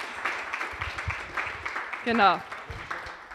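Scattered audience applause for a young man, with sparse, uneven claps heard under ongoing talk from nearby voices.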